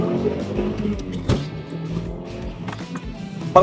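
Mitsubishi Lancer Evolution 6 GSR, a four-wheel-drive turbo car in factory stock form, being driven, a steady close engine and road drone with a sharp thump partway through and another near the end.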